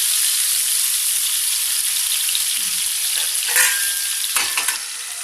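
Tomatoes fry in a pan for an egg tomato chutney, making a loud steady sizzle close by, with a few soft clinks and stirring sounds near the end, and no talking.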